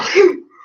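A single sharp, explosive burst, like a sneeze or cough, fading quickly into quiet with a faint tonal hum afterward.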